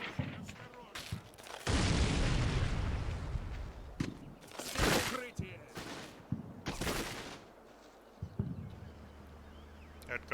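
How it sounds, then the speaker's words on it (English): Heavy machine gun bursts and booming explosions in the WWII strategy game Combat Mission, set in Poland 1945; a long loud burst is followed by sharp blasts and scattered shots at close range. "That's probably a heavy machine gun."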